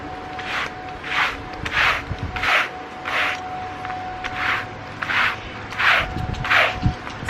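A brush drawn repeatedly over a fur-covered mat outdoors on a sunny day to lift pet hair, giving about ten steady, evenly spaced rasping strokes, close and moderately loud, with no talking.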